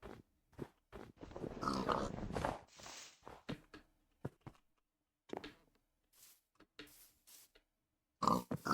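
Pigs in a pen in the Minecraft video game give short, scattered grunts with gaps of silence between them, mixed with soft footstep-like taps, fairly close.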